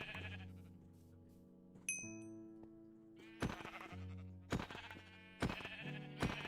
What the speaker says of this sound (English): So we're gonna visit Molly's sheep farm.